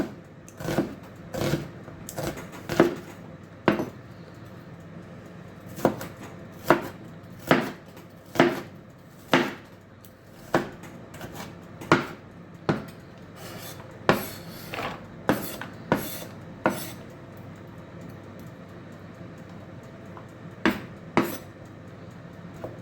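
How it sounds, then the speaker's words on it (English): Kitchen knife roughly chopping older vegetables on a board for vegetable stock, a run of crisp, irregular thunks at close range with short pauses between bursts, no talking. "So I'm just going to roughly chop this."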